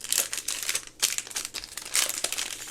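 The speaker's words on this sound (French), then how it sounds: "J'arrive pas à ouvrir mon booster." Crinkly plastic of a Pokémon card booster pack wrapper being worked open by hand, several loud bursts of crumpling and tearing close up, with no talking.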